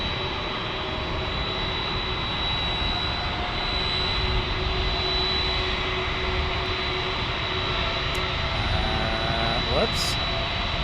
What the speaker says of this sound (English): This is Air Canada 737 MAX 8